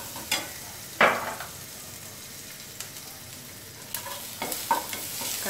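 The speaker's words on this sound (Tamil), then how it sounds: "நல்லா அந்த இஞ்சி பூண்டு வந்துட்டு நல்லா எண்ணெயில் நல்லா வதங்கி" Ginger and garlic sizzle steadily in oil in a pan, with occasional scraping stirs and clinks of a utensil; no voices.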